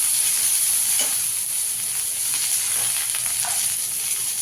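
Kudli being fried together with other ingredients in a pan for bharta, a steady, dense sizzle that holds at an even loudness, with occasional faint stirring scrapes.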